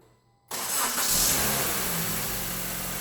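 A Honda Civic engine cranks and catches after a spark plug replacement, bursting in loud and then settling into a steady, even idle with no voices.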